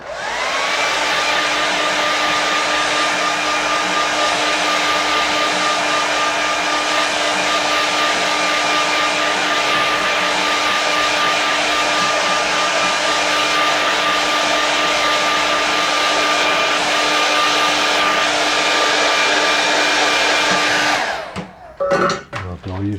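Hair dryer blowing steadily and loudly over a wet watercolour landscape painting for about twenty seconds, a constant close whine and rush that then cuts off abruptly with a few clunks.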